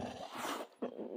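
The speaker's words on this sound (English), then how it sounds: "when he sees a treat, he barks, because that is what he knows how to do" A deaf pit bull barks for a treat: two short, rough barks close by, separated by a brief pause, with no talk.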